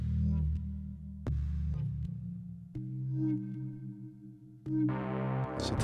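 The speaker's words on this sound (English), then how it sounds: "I think it's a Serum synth patch." A Serum synthesizer patch playing a few sustained low notes that change every second or so, ending with a brighter buzzy tone; fairly quiet, no voices.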